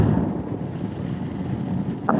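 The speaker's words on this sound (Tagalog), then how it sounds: "Hindi ba malakas yung hangin?" Strong wind buffets the microphone while riding a Bristol Maxie 400 motorcycle on the NLEX expressway, a continuous low roaring rush with gusty fluctuations.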